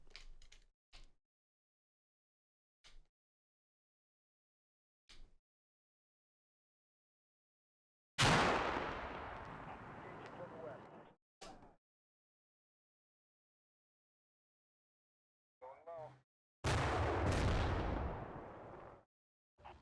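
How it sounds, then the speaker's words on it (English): Gunfire at an already knocked-out BMP in the tactical war game Combat Mission: Black Sea: a few sharp isolated shots spaced apart, then two loud sustained bursts of firing and impacts, with no talk. "Shooting a tank that's already dead."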